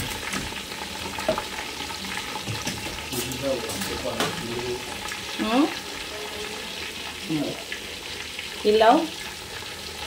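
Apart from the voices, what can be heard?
duck deep frying in oil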